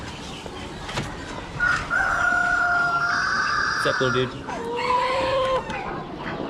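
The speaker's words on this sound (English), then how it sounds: "Rooster." A rooster crows at an Amish animal auction, a long, loud call rising over barn noise, with a second crow following; someone speaks briefly at the start amid other poultry around.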